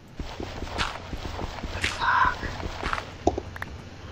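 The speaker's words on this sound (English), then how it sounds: "This horse is gonna get me." Minecraft horse hooves in a video game, a few soft clip-clop steps scattered through the clip over a low background hum, with a brief louder burst midway.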